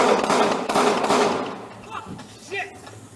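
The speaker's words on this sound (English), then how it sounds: "shots are fired" Gunfire in a Dallas police shootout after a stolen-truck chase, recorded on a bodycam: a burst of loud, sharp cracks in the first second and a half, then fainter scattered sounds.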